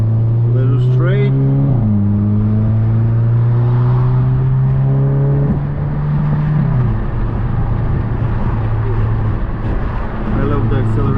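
A Hyundai Elantra N accelerates from inside the cabin, its engine note droning low and rising in steps through gear changes, loud and continuous throughout.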